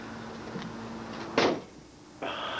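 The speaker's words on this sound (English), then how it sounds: "That was a sound of metal shutting." A single sharp metallic clunk of a door shutting over a low background hum, followed by a steady mechanical whir.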